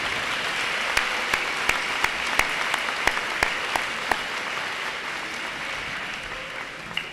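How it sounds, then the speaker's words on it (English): An audience at a university honors convocation gives a sustained round of applause, broad even clapping with a few sharper individual claps standing out near the start. "Let's please give them a round of applause for all they've done for today."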